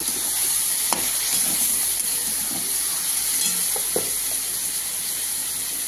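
Chicken keema frying with sesame, ginger paste, cumin, coriander, chilli and turmeric in a pan, a steady close sizzle with a few sharp spoon scrapes and clinks, no talking.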